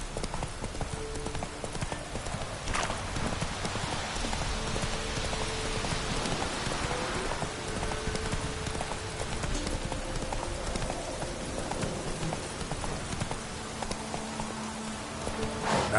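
Roach, a horse in The Witcher 3, trots with steady clip-clop hoofbeats throughout, close and continuous against a rainy backdrop with a few brief tonal game sounds.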